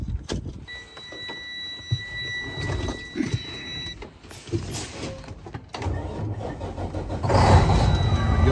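Detroit Series 60 14.0L diesel in a 2019 Freightliner Coronado glider truck cranks over and fires, swelling to a loud, steady idle near the end after clicks and cab noises.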